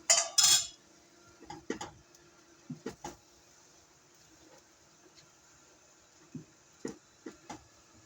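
Mushroom risotto being stirred in a pot with broth added, sparse scrapes and knocks of a spoon against the pan at irregular intervals, with a sharper clatter at the start and quiet gaps in between.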